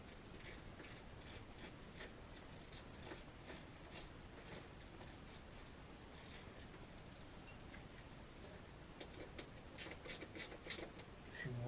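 A small hand tool tightens a part on an MRF 140 RC model replica while door handles are fitted, giving faint, close, rapid clicking and scraping that runs steadily throughout.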